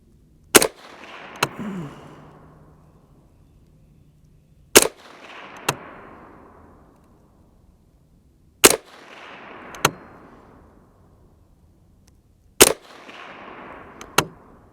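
A Savage A22 Magnum rifle fires on an outdoor range: four loud, sharp shots several seconds apart, each followed by a ringing steel-target clang about a second later and a fading echo. No talking.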